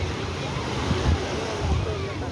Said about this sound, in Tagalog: Grabe yung taas ng alon.